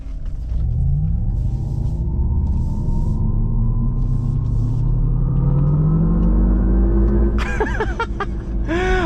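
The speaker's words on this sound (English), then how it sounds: "when we have the motor sound in off-road, it makes some pretty darn crazy noises" A deep electric motor drone from a Hummer EV's off-road motor sound mode rumbles and slowly climbs in pitch, joined by warbling, spacey synthetic tones, loud and continuous with no speech.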